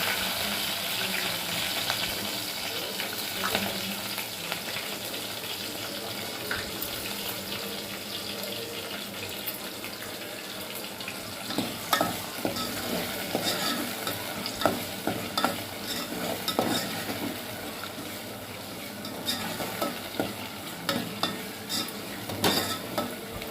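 Sliced onion and green chillies frying in a pan for coconut curry, a dense steady sizzle up close with scattered scraping stir strokes growing busier toward the end.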